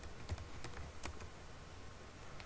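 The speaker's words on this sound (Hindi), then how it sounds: "यहाँ पे अपना ईमेल आईडी एंटर कर दीजिए" Scattered keystrokes on a computer keyboard as an email ID is entered into an online job application form, a few faint separate clicks over a low steady hum, no voices.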